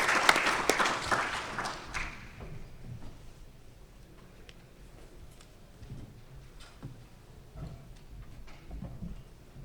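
A burst of applause from an audience for the first couple of seconds, fading into quieter room noise with occasional faint knocks.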